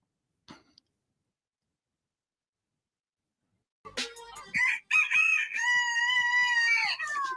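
Chicken in a video game crowing like a rooster after a near-silent stretch, a loud drawn-out cock-a-doodle-doo call with a few clucks, close and alone.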